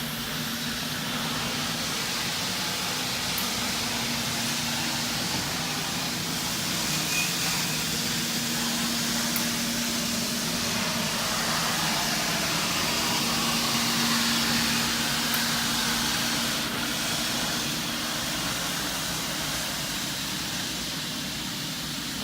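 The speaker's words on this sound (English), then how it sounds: "you turn on your vacuum and the pump, and you are ready to go" Floor scrubber running with its vacuum and pump switched on, giving a steady whining drone with a constant hum underneath that stays even throughout, loud and close with no talking.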